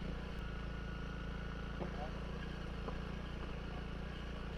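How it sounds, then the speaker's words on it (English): A Honda CRF300L motorcycle idles with a low, steady, quiet purr on a Suffolk outing, the engine hum constant and unobtrusive throughout. "this is a pretty quiet little machine, not going to upset anyone really, loud exhaust or anything. Purrs away, the little Honda does"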